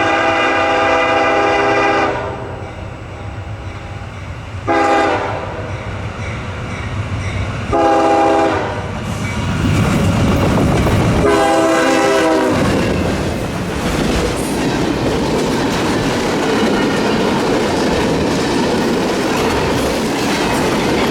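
A CSX M567 freight train led by a single GE Evolution locomotive sounds several long horn blasts up close, then rumbles and clatters loudly past on the Garrett Subdivision for the rest of the span, with no talking.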